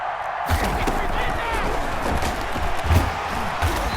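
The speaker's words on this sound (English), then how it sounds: "Listen to this crowd now" A stadium crowd roars in the Madden NFL 21 video game during a Buccaneers versus Chiefs overtime two-point conversion, a steady loud swell of cheering with a few thumping hits and a commentator talking over it.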